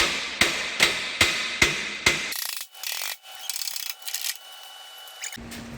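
A rust repair section being fitted to a fourth-generation Toyota 4Runner frame: five sharp metallic strikes at a steady rhythm, followed by grinding, scraping metal movement and a thin ringing tone.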